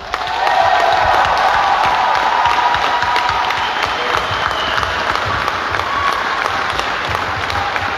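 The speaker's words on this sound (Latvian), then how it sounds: "Aplausi!" A large crowd applauds loudly and steadily at a homecoming celebration in Jelgava, Latvia, for Olympic champion Edgars Krūmiņš, with dense continuous clapping and a few scattered cheers throughout.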